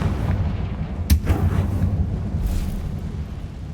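A Confringo fire spell goes off in Hogwarts Legacy as a sharp burst and crackling whoosh, with a second smaller burst following, over a steady background rumble of game ambience.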